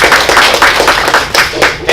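Clapping at a Toastmasters club opening address, greeting an area director: a steady burst of hand claps throughout, fairly loud and close.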